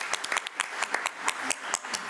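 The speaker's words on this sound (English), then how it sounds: "Let's give him a round of applause." Sparse applause at a school board meeting: a handful of people clap, producing distinct, unevenly spaced hand claps that are moderately quiet, with no steady crowd roar.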